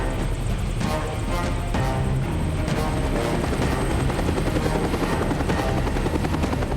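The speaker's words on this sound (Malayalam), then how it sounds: "ഏതോ ഹെലികോപ്റ്റർ ഈ വഴി കൂടി വരുന്നുണ്ടെന്ന് തോന്നുന്നു." Helicopter flying overhead, its rotor thudding in a fast steady chop with a loud, close, constant engine roar and no talk.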